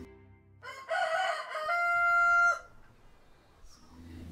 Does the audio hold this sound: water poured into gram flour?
no